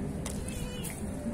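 A cat meows a few times, faint and somewhat distant, over a low, continuous outdoor rumble at a fishing spot.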